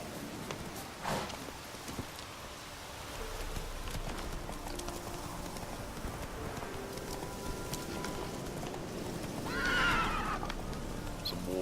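Roach, a horse in the video game The Witcher 3, neighs loudly near the start, then its hooves clip-clop steadily at a trot under game ambience, with a second whinny near the end.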